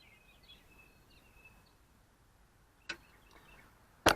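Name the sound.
birds calling outdoors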